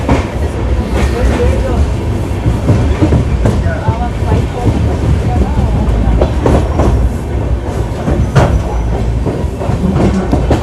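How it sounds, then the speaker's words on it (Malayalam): A sleeper-class superfast train from Mangaluru to Chennai runs at high speed on a main line, with a loud continuous rumble and rhythmic wheel clatter heard from on board while someone talks. "ഇത്ര സമയം ട്രെയിൻ നല്ല സ്പീഡിലാണ് വന്നുകൊണ്ടിരുന്നത്"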